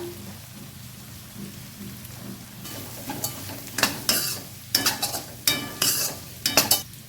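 Ginger and garlic fry in a pan for egg curry with a faint sizzle, then scraping stirs come in sharp, irregular bursts that grow closer and louder toward the end.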